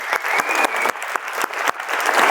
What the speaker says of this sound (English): I wanna give a big round of applause for these guys